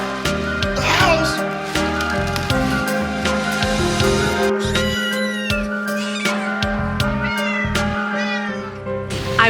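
Several cats meowing close by during a damaged-house emergency, repeated loud rising cries overlapping one another in quick succession, with people talking faintly underneath.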